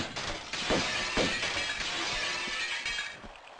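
Glass smashing in the video game Tomb Raider: a dense, bright shattering with several sharp breaking bursts over a few seconds, loud and close, with no talking.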